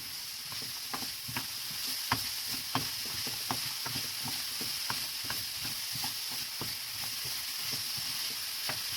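Celery and onions sweating in a frying pan, a steady soft sizzle with a rhythmic series of light clicks and scrapes from stirring, close up, with no talk.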